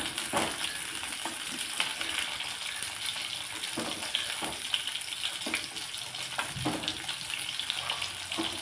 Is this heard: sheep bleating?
no